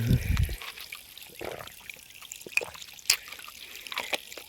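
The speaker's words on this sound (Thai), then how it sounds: "มีน้ำให้กินอยู่นี่ก็สิไหลอยู่แบบนี้ตลอดเนาะ" Spring water flows steadily from a natural spring in a rural setting, a continuous trickling and splashing with small drips, close and moderate, with someone talking over it at the start.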